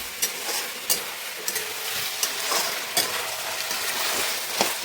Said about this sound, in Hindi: और इसे एक बार हम अच्छे से चला लेते हैं।